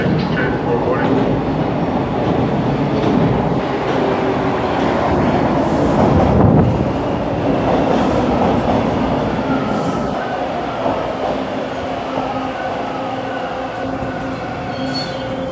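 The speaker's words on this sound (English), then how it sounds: "your next train is now arriving" A Toronto subway train arrives at Bloor-Yonge Station on the Yonge-University and Bloor-Danforth lines, a loud, continuous rumbling roar of wheels and motors that swells around the middle and slowly eases, with faint wheel squeal throughout.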